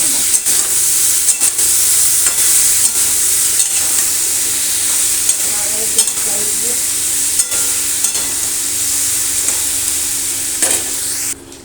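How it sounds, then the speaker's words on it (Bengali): Potatoes, tomatoes and soybeans frying together in a pan, a loud continuous sizzle with occasional stirring scrapes and clinks, close up and without talk. "তারপর আলু, টমেটো আর সয়াবিন একসাথে ভালো করে কষিয়ে নেব।"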